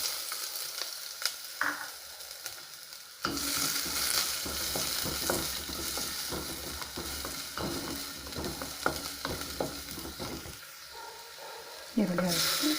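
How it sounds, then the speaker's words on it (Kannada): Onions hit hot oil for a radish sambar, setting off a sudden loud sizzle that crackles steadily for several seconds with stirring scrapes, then drops away to quieter kitchen sounds. "ಎಣ್ಣೆ ಆದಮೇಲೆ ಈರುಳ್ಳಿ ಹಾಕ್ತಾಯಿದ್ದೀನಿ."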